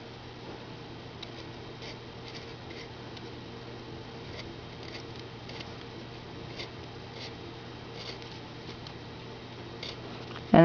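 Small cutting tool trimming excess material around the edge of a handmade cat ornament, producing a steady run of soft, repeated snipping and scraping ticks at close range over a faint background hum, ending in a brief louder clatter.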